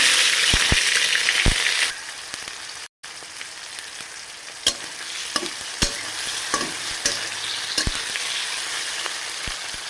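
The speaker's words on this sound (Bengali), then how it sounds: "তেলটা যখন গরম হয়ে আসবে তখন দুটো শুকনো লঙ্কা দিয়ে দেবো, একটু জিরা দেব, টমেটো দিয়ে দেব," Dried chillies, cumin and tomato frying in hot oil for a vegetarian cabbage curry: a loud hiss that drops after a couple of seconds, then a quieter sizzle broken by irregular spoon clinks and scrapes, no voices.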